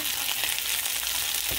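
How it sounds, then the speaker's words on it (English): Big shrimp hit a hot pan of light-browned onion and garlic, a dense, steady sizzle filling the short stretch, close and fairly loud with a faint stirring scrape near the end. "the garlic is turning brown now, light brown. So it's time for me to put my shrimp, big shrimp."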